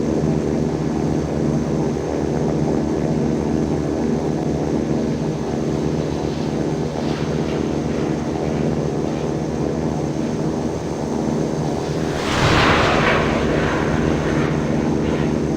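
A jet engine roars steadily in an Infinite Flight simulation as a Navy aircraft takes off from runway 26 at an Albuquerque air show. The drone is continuous and loud, with a brief swelling burst near the end.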